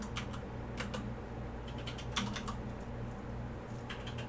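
Rapid typing on a computer keyboard during a terminal command session, with clustered bursts of clicking keystrokes over a steady low hum, close and moderately loud.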